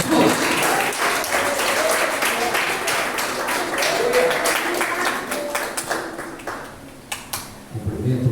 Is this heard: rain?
no